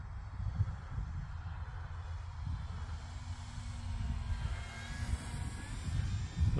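An E-flite Cirrus SR22T RC airplane flies over a winter grass field, its small electric motor giving a faint steady whine over a low rumbling background of wind and outdoor noise, with no one speaking.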